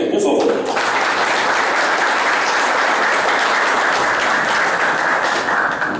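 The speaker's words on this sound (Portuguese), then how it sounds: "Eu gostaria também que vocês recebessem com uma salva de palmas o vice-presidente nacional" An audience at a liberal party's national meeting applauds the national vice-president, with loud, sustained clapping that starts after a brief voice and continues steadily to the end.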